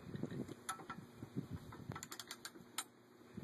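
A ratchet strap is cinched down on a PDR Tough Gear tool cart, giving a close series of sharp clicking and rasping strokes in an uneven rhythm.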